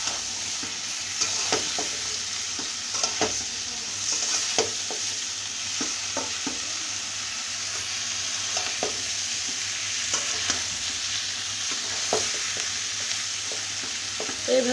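Eggplant pieces fried in oil in a pan, stirred with a spatula in a regular rhythm of scraping strokes over a constant sizzle, close and with no voices.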